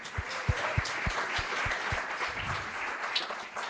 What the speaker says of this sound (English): How about a round of applause for our Classroom of the Future Foundation?